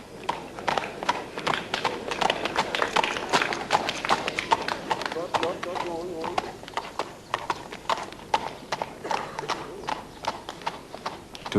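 A horse ridden in a cross-country eventing competition gallops with a fast, steady clip-clop of hooves that carries on throughout, heard under continuous commentary.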